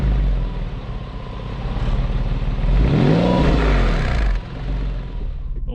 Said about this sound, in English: Now it sounds a little weird when you fire it up.